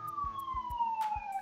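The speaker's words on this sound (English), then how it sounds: "Ambulance." A passing ambulance siren sweeps downward in pitch, heard faint and distant under rhythmic low thumps.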